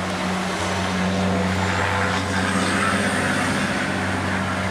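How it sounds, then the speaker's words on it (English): Heavy log trucks rumble past outside a rural workshop, a loud continuous engine and tire roar that swells slightly midway and holds throughout. "Log trucks, they're loud."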